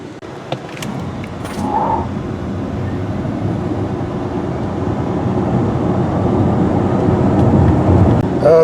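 A 2024 Genesis GV60 electric car accelerates hard, with a steady broadband road-and-motor roar that swells gradually and stays loud throughout, without any talking.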